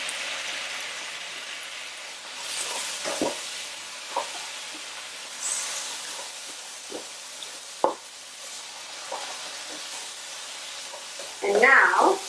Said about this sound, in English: at this stage, we're going to add the pickled turnips if using